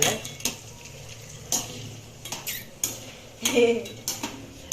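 Soybean gobi fried in oil is stirred in a pan at home, with a spoon clinking and scraping against the metal in several sharp knocks and scrapes, close and fairly quiet, with no talking.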